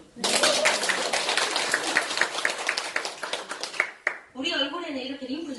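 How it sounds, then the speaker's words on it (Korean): Seminar audience at a Korean skincare business presentation claps together in a loud, dense patter for about four seconds, then the clapping stops and a voice follows. "공감하시면 박수."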